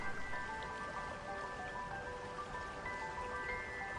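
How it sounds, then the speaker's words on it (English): Rain falls on a house as a steady, soft hiss of drops with faint dripping. A quiet tonal hum sits beneath it, and the sound stays even throughout. "Then rain fell on the house."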